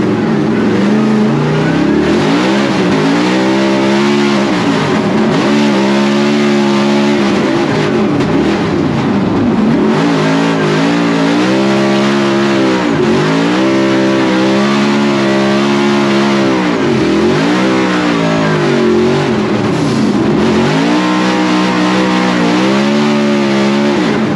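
A Formula Drift car, running a new, very soft clutch, revs hard through a drift run, its engine note rising and falling in loud, continuous sweeps that never let up.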